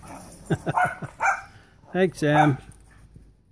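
A few short dog barks and yips close by, mixed with a brief spoken exchange.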